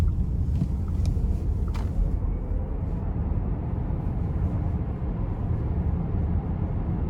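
A 2021 Volkswagen ID.4 Pro S electric SUV accelerates out of a corner, giving a steady, loud broadband road and wind rush with no engine note, heard from inside the cabin.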